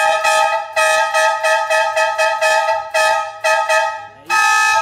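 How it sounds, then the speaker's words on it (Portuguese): A loud triple-tone vendor horn fitted to the front of a Fiat Fiorino honks in a series of short blasts with a few pauses, ending on a longer held blast. "Vamos ver como é que ficou essa buzina instalada ali na frente"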